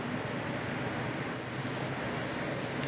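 An LPH80 spray gun lays a super light second coat of paint while refinishing chrome and anodizing, giving a steady close airy hiss that runs unbroken throughout.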